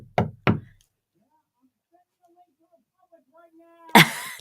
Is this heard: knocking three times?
yes